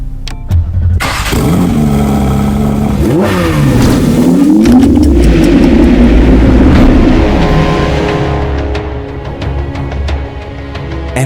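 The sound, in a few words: Porsche 911 Carrera 992.2 revving with aftermarket exhaust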